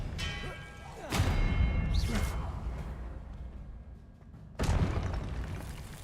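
Expelliarmus spell cast in Hogwarts Legacy, a few booming whooshes and impacts spaced apart, moderately loud over a low ambient rumble.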